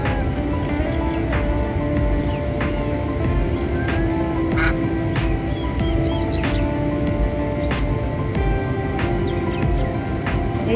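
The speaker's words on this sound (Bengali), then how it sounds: "সাতটা রাজহাঁস। ওরে বাবাদের কি সাউন্ড" A group of seven swans calls repeatedly at a property in Kolkata, with brief honking notes rising over a steady, dense outdoor background that continues throughout.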